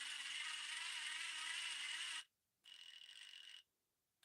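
A cordless drill runs at steady high speed for about two seconds, stops, then whirs again for a second, close and alone with no talk.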